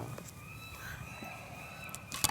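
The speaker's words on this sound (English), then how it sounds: "This bird's going crazy." A bird calls loudly and excitedly outdoors, with a rooster-like crowing line drawn out over a couple of seconds, then a few sharp bursts at the end against faint background noise.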